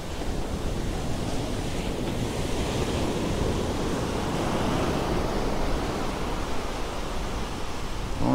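Ocean surf rolls steadily onto Topsail Beach, North Carolina, on a rising tide, a broad continuous wash of breaking waves mixed with wind buffeting the microphone, loud and unbroken.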